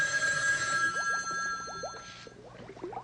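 A telephone rings on a comedy horror show set: steady electronic tones that cut off near the two-second mark, followed by a string of quick chirping blips, at moderate level with no talk.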